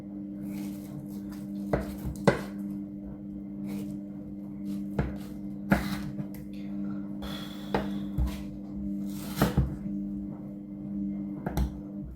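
A knife chops fruit for a fruit salad on a board, sharp irregular knocks spaced over a quiet background with a steady low hum and a few light clinks.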